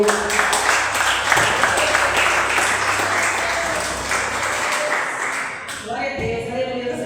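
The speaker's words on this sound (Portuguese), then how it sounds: "Você pode aplaudir mais forte o Senhor?" A church congregation applauding, loud sustained clapping from a crowd that fades near the end, where a voice and music-like tones take over.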